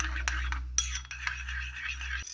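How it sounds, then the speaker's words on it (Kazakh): Ketchup and mayonnaise stirred together into a burger sauce, with light scraping and clinking of a spoon against a bowl over a steady low hum, quiet and close. "Енді кетчуп пен майонезді араластырып, соус дайындаймыз. Екеуін жақсылап араластырамыз."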